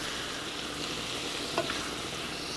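Chicken sizzles steadily in a hot pan, with a brief scrape of stirring partway through and no talking.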